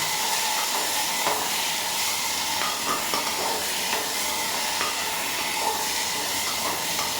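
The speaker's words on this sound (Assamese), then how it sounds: "এনেকৈ মই ভালদৰে লৰাই দিছোঁ।" Carrots and beans stirred in a hot pan, a continuous loud sizzle and hiss with faint scraping of a spatula mixed in, close and steady throughout with no voices.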